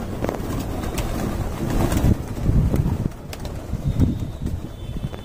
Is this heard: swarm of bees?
no